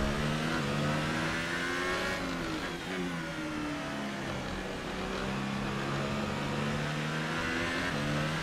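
Loud, unbroken engine roar from an F1 racing game at the Hungarian Grand Prix: race cars rev up and down through gears among lapped traffic, with a brief pass-by swell near the middle.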